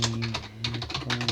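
Rapid clicking keystrokes on a Razer computer keyboard that sometimes doubles up letters, typed in quick uneven bursts close to the microphone over a low electrical hum.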